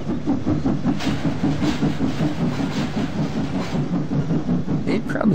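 Train passing in Farming Simulator 15 on the American Outback map, a close rolling rumble with repeated clickety-clack beats from the wheels and a faint hiss, continuous and fairly loud.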